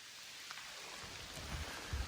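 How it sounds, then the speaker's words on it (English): Rain falling steadily at a lakeside campsite in Algonquin Park, Ontario, a soft continuous hiss that stays faint and distant, with a few heavier patters building toward the end and no voices. "we tried to wait out the rain"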